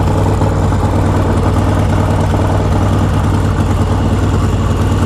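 A 2007 custom bobber motorcycle idling in gear, its engine a loud, steady low rumble with an even throbbing pulse that holds close and unchanging the whole time.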